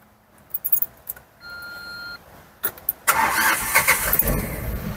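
At an auction yard, a used car's engine cranks and catches about halfway through, then runs loud and close. Clicks and a short electronic tone come before it starts.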